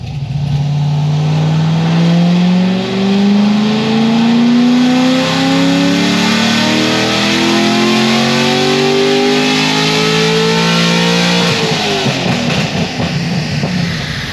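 A Stage 4 Corvette C6 Z06 engine revs hard on a dyno in one long pull. The pitch climbs steadily, touches the rev limiter near the top, then drops away. It is loud, close and alone, with no talk.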